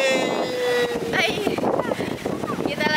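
Big, dangerous waves and wind at Prigi beach roar in a broad, continuous wash with gusty rumble, while a voice talks over the surf throughout.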